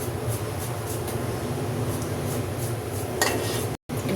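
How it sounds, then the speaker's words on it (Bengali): Foam is skimmed off a pot of boiling chana dal: a steady bubbling hiss with a spoon scraping against the pot near the end, followed by a brief cutoff. "এটা ফুটে গেছে, এখন এই ফেনাটা আমি উপর থেকে একটু ফেলে দিচ্ছি।"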